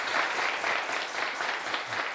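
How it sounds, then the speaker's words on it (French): A studio audience at the Bénin TV show Le Trône breaks into dense, steady applause that holds at an even, lively level from start to finish, with no voices over it. "Merci d'applaudir pour vous."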